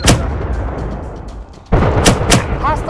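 A grenade goes off during a firefight in Firewall Zero Hour: sustained loud gunfire gives way to a sudden heavy blast near the end, followed by further sharp cracks, with brief voice chatter mixed in.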